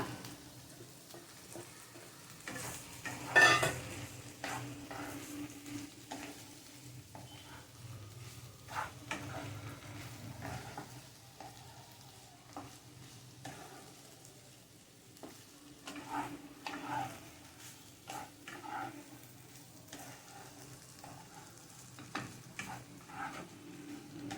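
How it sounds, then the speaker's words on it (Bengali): Potatoes are added to a pan with paneer and fried, with soft sizzling and intermittent scraping and stirring clatter, fairly quiet and close. "এবার দিয়ে দেবো আলুটা"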